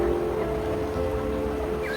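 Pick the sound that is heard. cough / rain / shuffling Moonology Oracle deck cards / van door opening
rain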